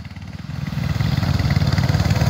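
A go-kart engine revs up hard during a kart race, rising to a loud, buzzing, pulsing drone that grows steadily over a couple of seconds and stays close.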